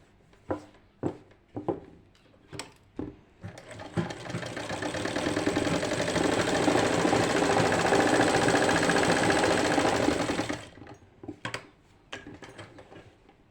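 Sewing machine runs a straight stitch along a second pleat on a lined kameez, a steady fast mechanical whir for about seven seconds, framed by scattered clicks and handling knocks before and after.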